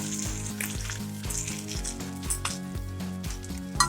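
Thick bone-in chicken pieces fry in a pan, rendering their fat with a close, busy sizzle and spatter, accompanied by a rhythmic pulsing pattern that stays at a fairly even level for a few seconds.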